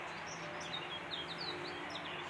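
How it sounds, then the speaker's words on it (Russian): Several small birds chirp and trill in a garden in Germany, bright repeated calls over a steady soft background hiss, moderately distant and fairly quiet. "Ох, птички заливаются."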